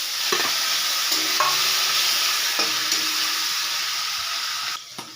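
Grated onion frying in hot oil with bay leaf and whole cumin: a steady, loud sizzle throughout, with a few spoon stirs and scrapes against the pan and no voices.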